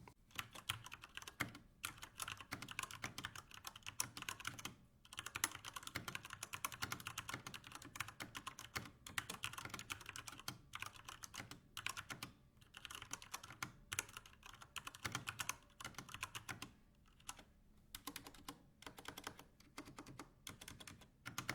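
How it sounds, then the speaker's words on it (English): Steady typing on a Corsair K70 RGB TKL mechanical keyboard fitted with Cherry MX Speed switches, close and fairly soft, with rapid bursts of key clicks separated by brief pauses. "The Cherry MX Speed switches are quiet and shouldn't annoy anyone while you're typing."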